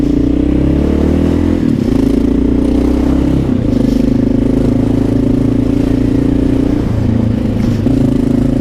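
Honda XR650L motorcycle carrying tools, a drill among them, riding in traffic, its loud steady engine drone shifting in pitch through gear changes, close and continuous with no talk.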